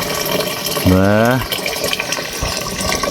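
Irrigation water gushes steadily into a farm field, a continuous rushing flow heard close, while a voice briefly calls out partway through.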